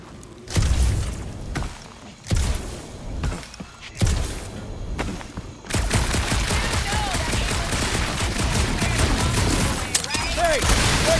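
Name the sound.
gunfire from the video game Marvel's Guardians of the Galaxy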